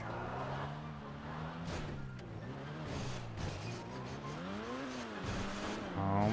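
Car engine in GTA 5 during a high diving-jump race, droning steadily with pitch rising and falling as it drives, tires squealing and skidding briefly, continuous and fairly loud with no talk.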